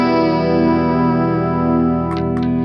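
An electric guitar rings out through a pro pedalboard on its Rick patch, a sustained chord thick with distortion and chorus shimmer, holding steady and full, with a couple of faint high squeaks near the end.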